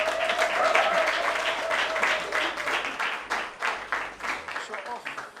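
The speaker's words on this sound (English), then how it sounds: "Clap for her." Audience applause for a runner-up called back to the stage at a debate academy tournament prize-giving, steady dense clapping that thins slightly toward the end, with a voice speaking over it near the start.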